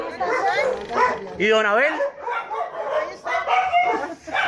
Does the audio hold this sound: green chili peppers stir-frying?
no